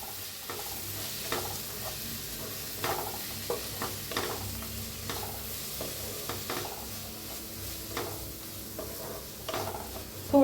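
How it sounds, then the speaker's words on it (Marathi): Red chili powder and turmeric roasting in a pan, a steady low sizzle with repeated scraping strokes of a spoon stirring, close and continuous with no voices. "लाल तिखट, आता चांगल्याला भाजून घेऊया।"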